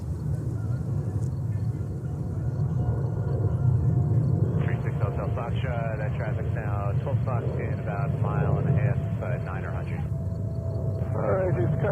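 A departing airplane passes over a New York planespotting spot, its engine drone a steady rumble throughout while air traffic radio chatter and voices play over it.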